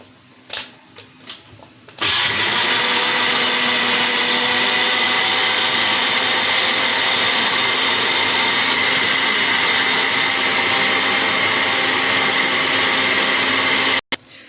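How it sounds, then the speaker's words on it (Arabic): Electric mixer beating eggs, oil, vanilla and milk for a cake batter, a few short bursts and then a loud, steady whir that runs unbroken for about twelve seconds before cutting off. "كل ده هنضربوه في الخلاط دلوقتي، يلا بينا"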